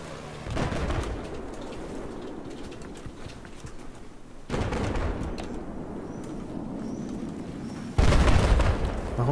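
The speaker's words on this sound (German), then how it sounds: "Schlägt hier bei mir ein Sniper-Schuss ein." Sniper shots strike nearby in the Battlefield 4 video game, three sharp, loud impacts at roughly four-second intervals, each followed by a decaying rumble over a noisy battlefield background.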